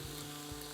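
Salmon fillets frying in a hot pan, a steady low sizzle running through the whole brief moment, faint and close with no voices.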